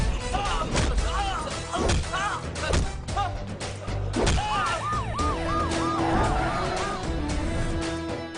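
Police sirens wail through a city in a Telugu action film, their rising and falling tones looping over heavy dramatic sound effects and thuds, loud and layered throughout.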